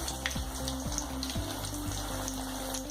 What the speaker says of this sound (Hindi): फ्राई करके आप बनाओगे तो ये बहुत ज़्यादा क्रिस्पी हो जाता है और बहुत टेस्टी लगता है